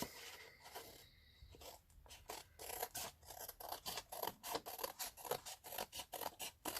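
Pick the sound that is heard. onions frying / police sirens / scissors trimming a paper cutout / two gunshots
scissors trimming a paper cutout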